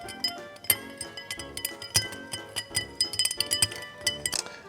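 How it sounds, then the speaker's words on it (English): Ice clinks and rattles in a mixing glass as a rum and gin Negroni riff cocktail is stirred around one big chunk of ice. The bright, close, rhythmic tinkling continues steadily, with no voices. "Then stir this down for about 20 seconds just to get it nice and chilled."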